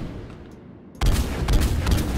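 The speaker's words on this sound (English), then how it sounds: "And the Striker assault rifle." Striker assault rifle fire in the video game Mass Effect 3: after a quiet second, a dense run of heavy, booming shots erupts and continues loudly to the end.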